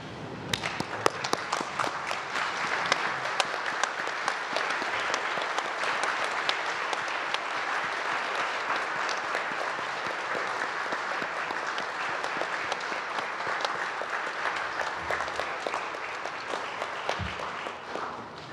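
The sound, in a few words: audience applause for graduates at graduation ceremony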